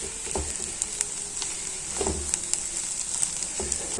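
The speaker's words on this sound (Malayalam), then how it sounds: "നമ്മുടെ കക്കിറച്ചിയൊക്കെ ഇവിടെ ഫ്രൈ ആയി വരുന്നുണ്ട്." Clam meat frying in a pan, a steady close sizzle with occasional soft clinks and scrapes of stirring.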